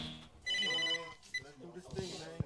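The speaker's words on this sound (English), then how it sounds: "The phone is ringing. I hear the phone ring." A telephone rings once in a short electronic burst during a hip-hop album skit, with voices talking around it.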